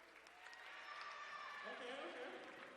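A crowd at a men's college basketball game applauds during a best dressed coach contest, producing a steady wash of clapping and cheering that swells and holds, with an announcer's voice heard over it.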